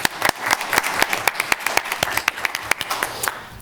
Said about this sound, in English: And so round of applause for Casey.